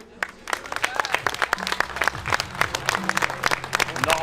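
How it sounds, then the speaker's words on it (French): Crowd at an anti-health-pass street demonstration in Limoges claps in tribute, sharp individual hand claps clustering into irregular, building applause, with voices and calls mixed in beneath the clapping. "je vous propose de faire une petite minute d'applaudissement pour monsieur Jean-Paul Belmondo"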